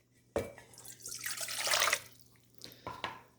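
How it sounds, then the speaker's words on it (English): Water pours into a pan for whole wheat bread dough in a close splashing stream that swells then stops, followed by a couple of short splashes. "So the first thing we do is put the water into the pan."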